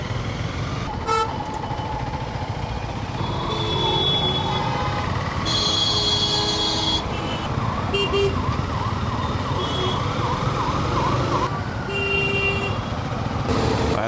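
Wailing ambulance siren rises and falls amid dense, jammed New Delhi traffic noise, with scattered car horn toots and engine rumble throughout.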